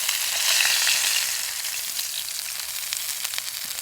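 Bacon frying on a Bushbox XL stove makes a steady close sizzle with fine crackles and pops, loudest at first and then easing to a softer hiss.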